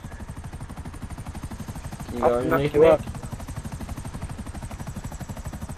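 Helicopter rotor in GTA V Online, a steady rapid chopping drone running through the whole stretch beneath people talking over game chat.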